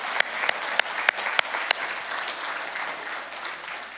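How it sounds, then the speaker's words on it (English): Conference audience clapping in a hall, a burst of sharp individual claps that settles into steady, moderately loud applause lasting throughout. "let's give you a round of applause"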